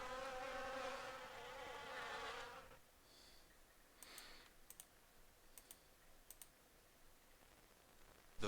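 Bees buzz in the video game AMBER Journeys Beyond, a close droning hum that fades out after a few seconds, followed by scattered keyboard clicks.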